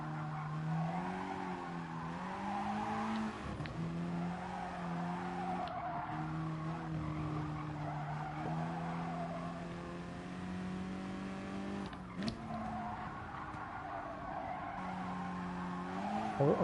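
Race cars skid and squeal their tyres around a circuit in Gran Turismo Sport, steady engine drone with gliding harmonic whines and repeated tyre scrubs throughout, loud and continuous with no talk.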